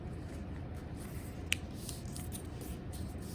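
A single crisp snip of scissors cutting off the extra edge of a folded paper sheet, one brief sharp click standing out against a steady background hiss.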